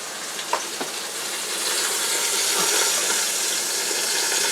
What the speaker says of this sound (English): I'm going to put my half a cup of water right in here. Stir it up and pour it in there